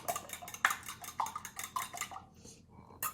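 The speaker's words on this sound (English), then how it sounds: "So we already got our 2 eggs in our bowl. You got your fork, so we're just gonna, whisk those up" A fork whisks two eggs in a bowl, giving quick, irregular metallic clinks and scraping taps that come close together. The sound is close and moderate, pauses briefly near the end, then resumes, with no voices.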